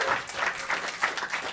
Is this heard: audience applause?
yes